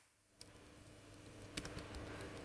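Quiet computer keyboard typing, a few scattered key clicks with soft taps between them, close and faint, while XML code is entered.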